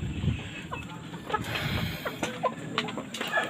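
Chickens cluck faintly in short, scattered bursts at a home in the Philippines, with soft background noise between the calls.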